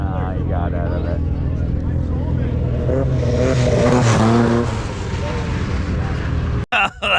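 A drag racing car runs down the track, its engine building into a loud roar that peaks and fades, with a person talking over it and a brief handling thump near the end.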